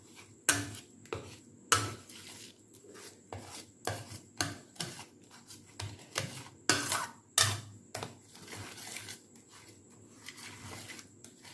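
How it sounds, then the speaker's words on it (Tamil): Biscuit halwa mixture with hot milk stirred in a pan, producing repeated close scraping and tapping strokes of a spoon against the pan in a steady, uneven rhythm. "நல்லா கட்டி சேராமல் நல்லா கிண்டி விட்டுக்கோங்க."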